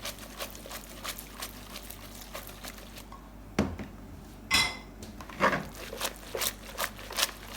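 Carbonara pasta is mixed in a bowl with pancetta and egg, sending out a series of clinks and scrapes of a utensil against the dish, close by, with soft wet stirring in between and no speech.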